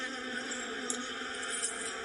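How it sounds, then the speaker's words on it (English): A dense, steady hum of many honeybees buzzing together in a healthy hive, continuous and fairly close, with no talking. "So this is the sound of a happy hive."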